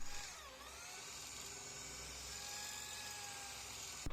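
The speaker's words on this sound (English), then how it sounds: "some of the rusted screws did require drilling to get out" An electric drill drilling out rusted screws in a Peugeot Expert van floor whines continuously at high speed, close and steady, its pitch dipping briefly near the start before holding level.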